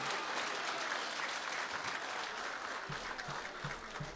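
An audience at an Urdu poetry mushaira claps steadily in a full, continuous round of applause. Near the end, a few soft, evenly spaced low thumps join the clapping.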